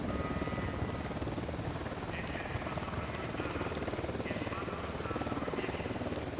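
Helicopter rotor drone from the video game Ghost Recon: Wildlands, a steady, dense whir held at an even level throughout, with faint higher tones drifting over the top.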